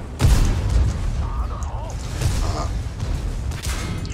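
Tank cannon fire in the video game World of Tanks: a heavy boom near the start followed by further dull impacts and rumble, with someone talking over the action.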